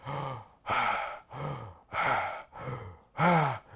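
Heavy, deliberate mouth breathing demonstrated by a man, six loud rasping breaths alternating in a steady rhythm, close to the ear with no talk.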